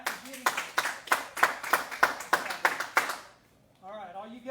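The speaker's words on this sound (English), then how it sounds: "Everybody clap for Jimmy." A class claps together for a classmate, a run of about a dozen rhythmic hand claps, steady and near, then a brief pause before a voice starts speaking.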